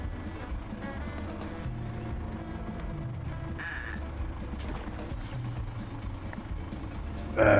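Ducks in the VR excavator game DIG VR let out a few harsh quacks over a steady low machine rumble, with one loud squawk bursting in at the very end.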